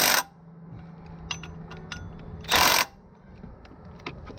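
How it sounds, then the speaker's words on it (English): A Milwaukee 2564 3/8-inch right angle impact wrench in mode 3 tightens a fastener in two short, loud, close bursts of rapid hammering, separated by quieter mechanical clicks and handling sounds. "But then we're going to go back to mode 3,"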